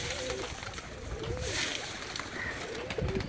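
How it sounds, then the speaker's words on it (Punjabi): Migratory pigeons on a village rooftop at Chak Pindi, Gujrat, give soft, repeated coos over steady outdoor background noise, fairly faint and intermittent. "ਇਹ ਪ੍ਰਵਾਸੀ ਕਬੂਤਰ ਨੇ ਚੌਧਰੀ ਦਿਲ ਸਾਹਿਬ ਹੋਰਾਂ ਦੇ"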